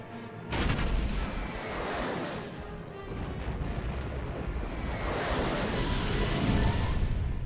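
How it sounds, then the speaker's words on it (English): A loud explosion in a cutscene from the video game Star Wars: Knights of the Old Republic opens with a sharp blast, then rolls into a sustained, roaring rumble with crashing debris that fills the whole clip. "Another awesome cutscene. This explosion rocks."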